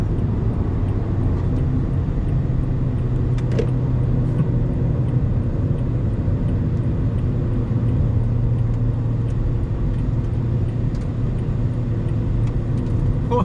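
A Toyota GR Yaris driven hard around a gymkhana course gives a loud, steady engine roar with tire and road noise that holds close and unbroken, and it is heard alone without any talk.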